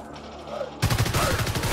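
Rapid automatic gunfire from the PS4 shooter Evolve, starting abruptly after a quieter stretch of game ambience and continuing as a loud, dense burst of rattling shots.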